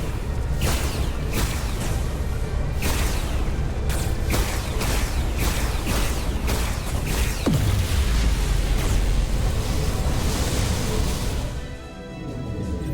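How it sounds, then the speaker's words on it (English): Dilithium explosion in the Star Trek Resurgence video game: a dense run of heavy booms and sharp bursts with rumbling, whooshing layers, loud and continuous throughout. "Dilithium explosion!"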